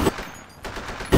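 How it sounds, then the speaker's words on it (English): Machine gun fire in a WW2 battle game mod: short, loud, close bursts of automatic gunfire at the start and end, with a brief lull between. "Look at that machine gun"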